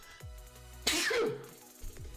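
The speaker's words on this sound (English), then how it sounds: "I'm sorry guys, I have to sneeze." A single sudden sneeze bursts out close to the microphone, sharp and breathy, set between quiet low hums.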